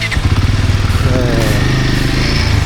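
An off-road motorcycle engine runs steadily under light throttle on a ride in Spain, loud and close with a chugging, uneven thrum.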